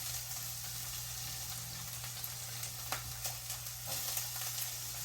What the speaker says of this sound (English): So into my first pan I'm going to add half of my green peppers. And half of my onions.